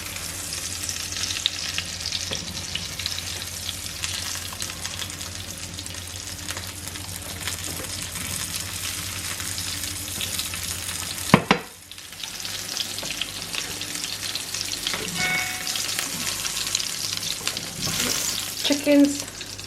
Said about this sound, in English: Just shallow frying them nice and slowly.